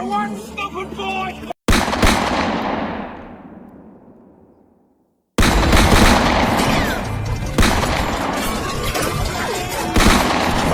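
Gunfire and shattering glass in a violent film shootout, with loud sharp bursts, a long crash decaying into silence, then dense repeated shots and impacts.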